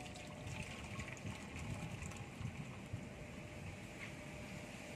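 Hot water poured off boiled moong lentils in a home kitchen, a steady close splashing gush that runs continuously without pause.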